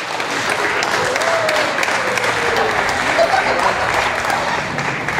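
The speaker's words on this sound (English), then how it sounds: "Let's give one more round of applause." Audience applause in an arena at an Ontario summer Jersey heifer show, a steady dense clapping wash lasting several seconds with crowd murmur and a voice faintly underneath.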